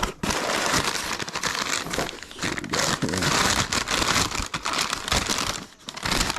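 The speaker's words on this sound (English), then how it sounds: "I usually do not like razors, but they cut very efficiently" A razor blade cutting open the packaging of an airsoft gun delivery, a dense run of close crinkling, scraping and tearing of plastic and cardboard.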